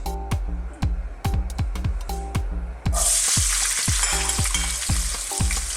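Onions hitting a hot pan for a beef and mushroom stew, a broad hissing sizzle that swells loudly after a few seconds, layered over a steady repeating thumping beat of background music.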